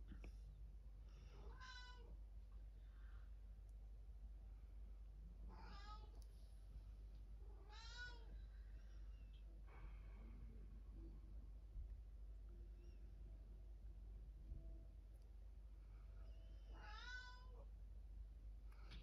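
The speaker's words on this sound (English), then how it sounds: "And the cat's off again." A cat meows repeatedly, drawn-out rising and falling cries spaced a few seconds apart, over a steady low hum with no talking.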